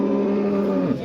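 A cow lets out a single loud, close moo at a cattle market in Khojaobod, Andijan, Uzbekistan.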